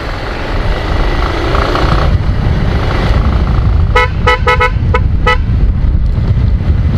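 Dual tone horn on a motorcycle called Shera, riding a rough, patchy road, blasts a quick series of about five short toots over steady engine and road rumble.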